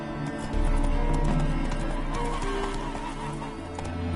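Horse hooves clip-clop at a steady gallop with a neigh in The Witcher 3 game, loud and continuous over a low rumble of game ambience.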